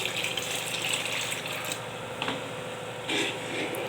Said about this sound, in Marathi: आता ह्याच्यामध्ये आपल्याला पाणी घालायचं आहे